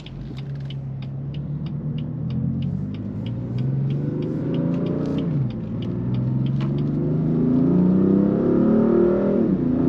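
A BMW M4 Convertible engine revs and accelerates from close by, its low rumble climbing in pitch through quick gear shifts, with a faint rapid ticking above.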